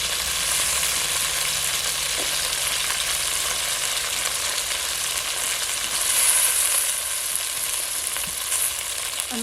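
Potatoes and onion dropped into hot oil for village-style rice cooking, sizzling loudly and continuously up close with occasional stirring scrapes and no talking.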